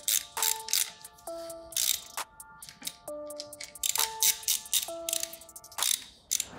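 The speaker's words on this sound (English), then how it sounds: "So now all four bolts are nice and tight, along with the wheel nut." Bolts on a dirt bike wheel being tightened with a ratchet wrench, repeated bursts of quick metallic clicking with ringing tones between strokes, close and clear with no talking.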